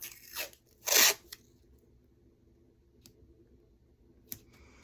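Tape pulled and pressed onto the back of a handmade steampunk paper mini album, a loud tearing rip followed by a few faint clicks and taps in a quiet room.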